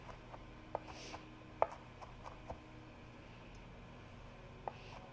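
Garlic being minced with a knife on a board, a handful of faint, irregular taps and chops with quiet pauses between them and no voices.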